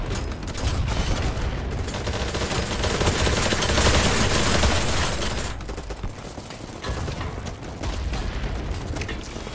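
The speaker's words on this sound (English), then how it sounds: "God, that's a lot of bullets." Dense, sustained gunfire in the shooter game Battle Bit Remastered, a loud rattling barrage of many overlapping shots that swells, briefly thins out and then resumes, with no talking over it.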